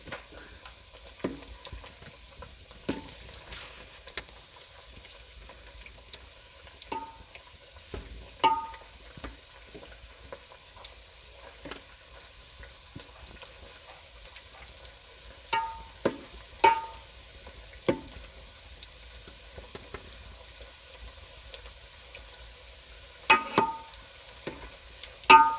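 Kangumu half cakes fry in oil with a constant low sizzle. Scattered clicks and scrapes come through as the pieces are turned one by one, and nobody talks.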